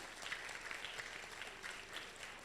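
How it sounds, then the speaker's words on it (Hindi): Steady applause from an audience at an award ceremony in Bhiwani honouring chartered accountants, dense continuous clapping held at an even level throughout. "एक बार सब चार्टर्ड अकाउंटेंट के लिए तालियां उठा दे"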